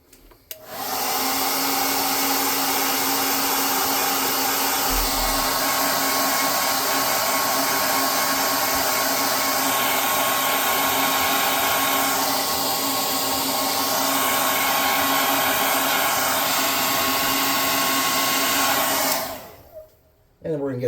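A hair dryer blows steadily and loudly for about twenty seconds to dry paint on a tabletop role-playing game hangar model, its motor whine holding an even tone before cutting off near the end, with no talking.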